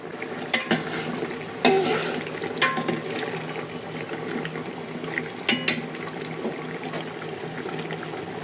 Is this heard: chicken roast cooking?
yes